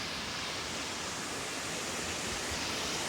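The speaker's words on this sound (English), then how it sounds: "The water is incredible. Stream up there." Stream water flowing near a small bridge on a walk toward a reservoir, a steady broadband rush with no breaks, fairly distant and soft, no voices.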